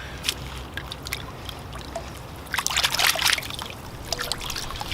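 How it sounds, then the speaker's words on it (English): Roots of a large native red maple bonsai being washed in water: soft sloshing and trickling close by, swelling into a louder swishing splash midway before settling back to gentle dribbles, with no talk. "I'll give the roots a wash now."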